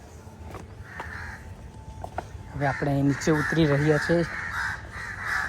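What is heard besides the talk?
birds (crows) calling at Chhab lake garden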